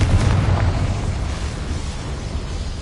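A Confringo fire spell from the Hogwarts Legacy video game bursts with a loud, booming explosion at the start, then rumbles on as a dense roar for about three seconds.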